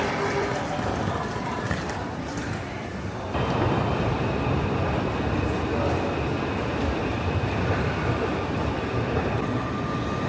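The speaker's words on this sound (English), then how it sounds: "I think we can connect to a local train here, the Metro" A Washington DC Metro train rumbles steadily close by, a loud continuous roar that swells and thickens a few seconds in, with faint squeals and voices underneath.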